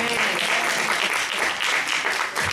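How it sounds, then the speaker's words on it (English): Audience applause at a church celebration program, a steady wash of many hands clapping at moderate volume through the whole short stretch. "Sister Sharon Rochelle, give her another big round of applause"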